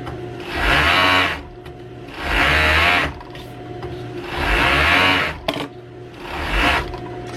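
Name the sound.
serger overlocking the edge of dress fabric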